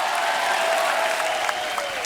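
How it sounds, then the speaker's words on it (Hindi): A studio audience on an Indian TV comedy show gives steady, loud applause, a dense, even wash of clapping with a faint tone running underneath. "इनके लिए जोरदार तालियां"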